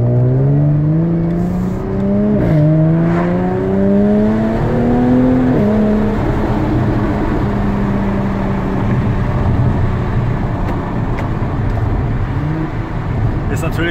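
Jaguar F-Type V6 coupé with 381 PS driving with its exhaust flaps open, loud and close, engine tone rising through two gear changes and then holding a steady cruising drone.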